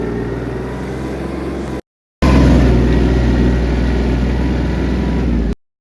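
A Kubota T-240 Japanese mini tractor's engine drones steadily and loudly while driving and turning, a low continuous rumble broken by brief cuts.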